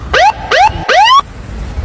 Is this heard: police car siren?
yes